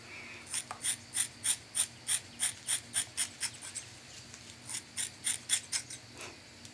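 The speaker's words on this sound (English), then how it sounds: "These scissors are so special." Barber's scissors snipping through hair during a close-up haircut, a steady run of about fifteen crisp, close snips in a quick even rhythm with a brief pause near the middle.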